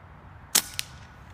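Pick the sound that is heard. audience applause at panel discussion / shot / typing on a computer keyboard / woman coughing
shot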